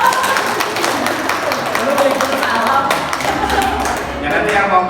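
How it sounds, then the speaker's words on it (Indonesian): Indoor audience applause at a child-parenting psychology seminar, a dense steady wash of many hands clapping for about five seconds with faint voices mixed in. "Boleh minta tepuk tangan ya?"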